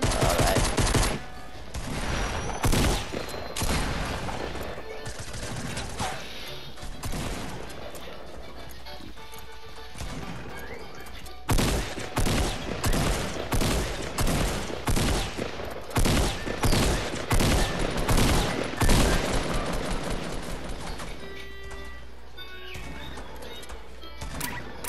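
Gunfire in the video game Fortnite, played in duo squads: sharp repeated shots and bursts, some loud and close, others lighter, scattered irregularly across the span with game ambience between.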